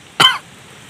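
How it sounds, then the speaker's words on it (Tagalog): A single short cough from a person outdoors, one sharp burst lasting about a quarter second over faint wind-like background hiss. "Inuubo tayo mga hunter, baka marinig tayo ng alpas."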